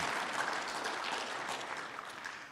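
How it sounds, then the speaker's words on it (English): Audience at the 92nd annual Arkansas State Chamber of Commerce meeting applauds steadily, a dense, moderately distant wash of clapping at even loudness that tapers slightly toward the end. "So give yourself a round of applause and thank you."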